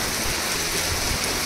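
Rain falls steadily on a Konkan village during the monsoon after two days of heavy downpour. A dense, even hiss fills the short clip without pause, and no voices are heard.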